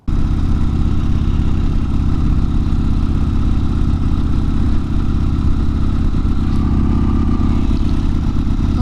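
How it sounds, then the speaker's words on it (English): Harley-Davidson Sportster motorcycle engine lugging uphill on a grade, a loud, deep, steady rumbling drone with low pulsing throb that holds unbroken throughout, no talk. "I started lugging the motor"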